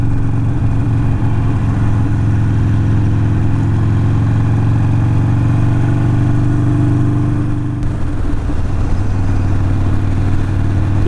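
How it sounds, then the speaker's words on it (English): Engines drone steadily from passing motorbikes coming off a hill near Derwent Water, a loud continuous hum from vehicles rolling by, with a shift in tone partway through as traffic changes. "the amount of bikes now passing me coming off the hill"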